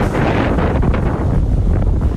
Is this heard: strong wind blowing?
yes